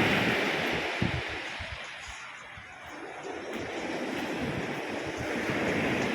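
Rough, large ocean waves churn in a continuous wash of surf and wind, steady and fairly loud with slight swells and dips, no voices present.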